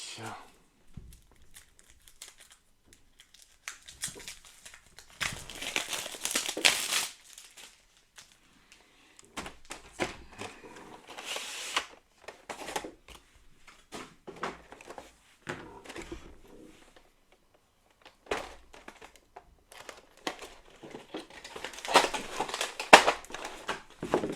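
Intermittent crinkling and tearing of tightly stuck plastic wrap being peeled off a board game, in short bursts, fairly faint, with quiet gaps and some background voice.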